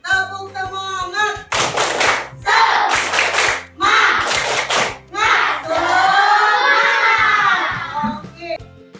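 A class of children claps in a rhythmic chant, bursts of unison clapping alternating with shouted group chanting and a lead voice.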